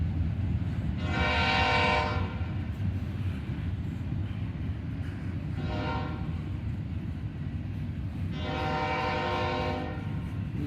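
KCS locomotives haul an intermodal freight train under slow orders near Oak Harbor in Northwest Ohio, sounding three long horn blasts over a steady, loud rumble of engines and rolling cars, with no talking.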